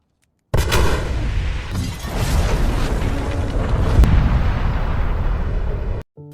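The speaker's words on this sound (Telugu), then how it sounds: "ఆ పేలుడు మొత్తం నగరాన్ని కుదిపేసింది" A huge explosion from a hospital being blown up in a Batman film erupts suddenly, followed by a long roaring rumble of blast and debris that cuts off abruptly.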